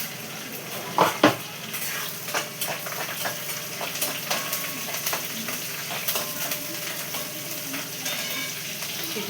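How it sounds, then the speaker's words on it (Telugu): Curry leaves hit hot oil in a pan with a loud crackling burst and keep sizzling steadily while a utensil scrapes and clinks against the pan, all close by and with no talking. "ఇగో కరివేపాకు వేసుకుంటే ఇలా కరివేపాకు వేస్తే"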